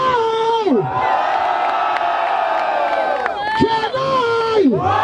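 A crowd at a rap battle semifinal in Barueri, São Paulo, loudly cheering and shouting for MC Gordão, with whoops and yells rising and falling in overlapping bursts and close voices calling out over the roar.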